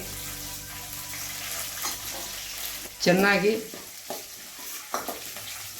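Oggarane tempering of ginger, chilli and sesame frying in hot oil for palak rice, a close steady sizzle with stirring clatter and a brief louder burst of bubbling midway, while someone speaks briefly.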